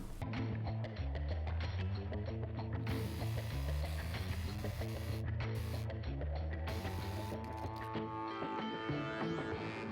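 A sewing machine stitching fabric with a busy, rapid mechanical clatter of ticking, whirring parts, close and continuous throughout, with no talk.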